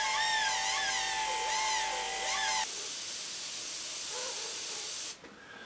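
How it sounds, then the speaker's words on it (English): An airbrush sprays paint with a steady close hiss, running continuously before cutting off near the end. "I'll start off by using the airbrush and kind of filling in the little bits of detail between one and the other"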